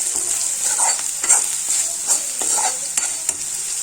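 Fish head curry seasoned with salt and turmeric, stirred in a frying pan, with a steady hiss of frying and several soft scraping strokes of the spoon.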